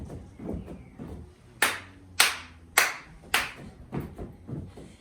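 Hand clapping during a children's ballet routine: four sharp, evenly spaced claps ring out close by, with softer taps and rustling of movement around them.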